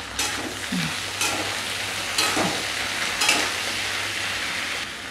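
Okra sizzles in hot oil with a little salt, a constant bright frying hiss broken by a few sharper spatters and stirring scrapes, with no voices.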